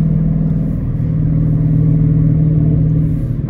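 A catless Dodge Challenger R/T runs at high RPM in cold weather on a highway at night. The exhaust gives a loud, steady, low droning rumble that holds throughout, with no speech.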